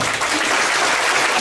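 A crowd at an Emha Ainun Nadjib Mocopat Syafaat gathering claps together in a brief, loud, dense burst of applause.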